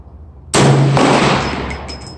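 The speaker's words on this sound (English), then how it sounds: "I'm going to be shooting at 100 yards with 450 bushmaster. 3-shot group." A single loud, close rifle shot from an AR-15 chambered in 450 Bushmaster fired at a 100-yard range, a sharp blast followed by a long decaying echo, with no talking.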